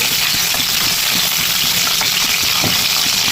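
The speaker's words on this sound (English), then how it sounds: "While frying the fish, you need to add more oil into it" Loud, steady sizzling and crackling of fish frying in hot oil, a continuous hiss with small pops throughout, close by and without talk.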